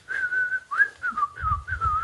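A person whistles a tune alone, clear sustained notes with small slides and short breaks between phrases, close and fairly loud.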